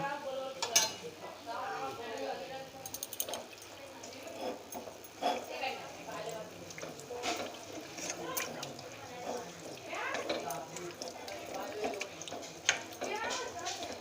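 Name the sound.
mixing lote fish with hot oil in a bowl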